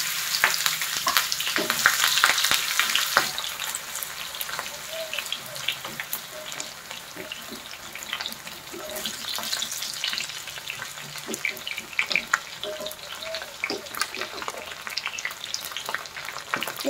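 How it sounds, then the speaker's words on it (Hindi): Pointed gourd (parwal) frying in hot rice bran oil over a high flame crackles and spatters densely and continuously, loudest at first then settling into steady popping, heard close with no talking. "अब हम इसमें परवल को डाल देते हैं और इसे फ्राई कर लेंगे"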